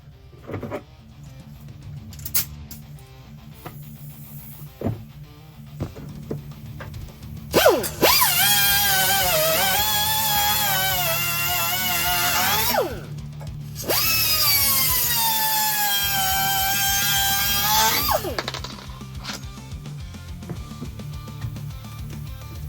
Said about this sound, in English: He's gonna use a pneumatic cutoff wheel to get rid of the child seat attachment point.